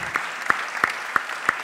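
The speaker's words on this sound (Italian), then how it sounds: "fate un applauso" An audience at the Premio Conchiglia Moige award ceremony in Italy claps in a steady, even rhythm. The applause is faint and sounds somewhat distant.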